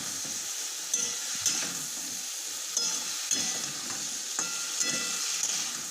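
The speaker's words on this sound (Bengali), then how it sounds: "এখন ভালো মতো নাড়াচাড়া করে নিচ্ছি" Potatoes sizzle steadily in a pan while a utensil scrapes and stirs them in periodic strokes, close up with no talking.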